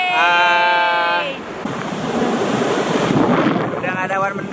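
Surf rolls onto a beach in Bali under heavy wind buffeting the microphone, a constant wash of waves with tonal music-like tones briefly at the start and end.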